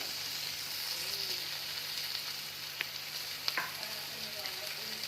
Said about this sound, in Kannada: ನೋಡಿ ಸ್ವಲ್ಪ ಧನಿಯಾ ಪೌಡರ್ ಹಾಕ್ತಾ ಇದ್ದೀನಿ